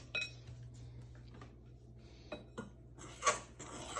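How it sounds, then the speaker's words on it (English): A fork scrapes and clinks against the bottom of a mixing bowl while stirring pie filling, giving scattered metallic taps and scratches, quiet and close, with louder grating strokes near the end. "it's making a horrible scraping noise on the bottom of the bowl"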